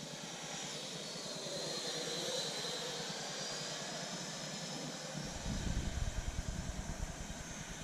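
Freewing F-22 Raptor 90mm electric ducted-fan RC jet passing low at about half throttle, a steady distant whooshing whine that swells slightly near the end, with no talk.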